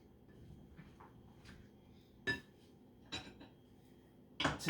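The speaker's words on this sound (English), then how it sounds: "you just want to give that another stir to incorporate that" A utensil clinks and scrapes against a bowl while fresh vegetable salsa is stirred, giving a few sharp, separate knocks spaced over quiet, faint handling noise, fairly close and without speech.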